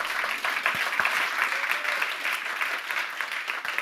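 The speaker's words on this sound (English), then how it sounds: "you will get a spontaneous round of applause from everyone in TEDx Technion" An audience at a TEDx Technion talk breaks into applause, dense, steady clapping from a large crowd that holds at an even level for several seconds.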